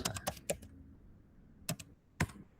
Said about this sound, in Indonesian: Baru ketik show sh user.